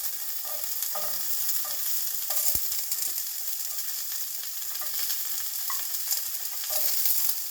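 Ainu-style Sampei Jiru soup ingredients browning in a pot, a steady crackling sizzle with occasional scraping stirs and a clunk of a utensil against the pot.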